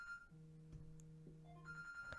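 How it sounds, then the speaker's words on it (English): A phone rings with a steady electronic tone, a sustained low hum broken by a few short beeps and a brighter high tone near the end, fairly close with no talking over it. "my phone is ringing."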